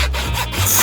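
A saw cuts with short, loud rasping strokes, about three quick back-and-forth pulls heard up close with no talking.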